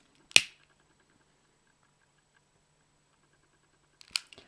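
A lighter being struck while shaping a fabric petal for a handmade autumn rose brooch: one sharp, close click near the start and another brief click with small after-ticks near the end, with near silence between.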